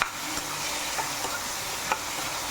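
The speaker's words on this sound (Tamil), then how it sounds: "இதை போட்டு இந்த எண்ணெயிலேயே நல்லா கொஞ்சம் திரட்டி விடுங்க" Raw banana and tomato pieces being stirred as they fry in oil, a soft even sizzle with a few light spoon taps and scrapes, close and moderately quiet, with no voices.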